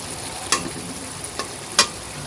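Fish sautéing in a pan for an eggplant and fish curry, a steady low sizzle with two or three sharp scrapes of a spatula against the pan, close and without talk.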